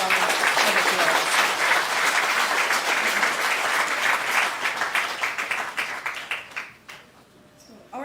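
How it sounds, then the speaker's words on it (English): Sustained applause from a crowd at the commissioning ceremony of a learners' centre in Cotton Field, Region 2, dense and steady clapping for several seconds before thinning out and fading near the end. "give another round of"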